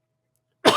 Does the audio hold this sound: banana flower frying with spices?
no